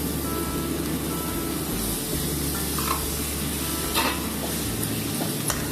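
Tomatoes, coriander, mint and green chillies stirred and frying in a pan for chicken gravy, a steady hiss of sizzling with faint utensil scrapes and clinks over a low background rumble.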